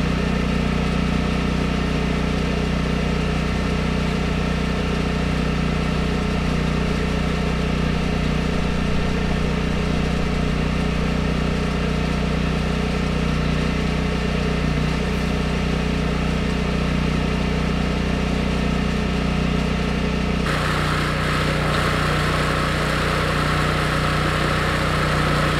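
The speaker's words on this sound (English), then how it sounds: "This little Coleman generator, it fires up every time, no matter how badly we treat it." A small Coleman portable generator runs continuously outdoors on a homestead, a steady loud engine drone that holds for about twenty seconds before shifting to a slightly different hum, with no talking.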